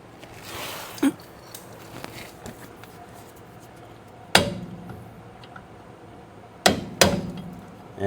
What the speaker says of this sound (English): take my screwdriver and beat it that way